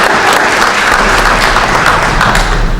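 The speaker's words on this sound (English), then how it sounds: "Round of applause for principle number 9" Dense audience applause at a leadership workshop, many hands clapping at once in a loud, even burst that lasts a few seconds with no pause.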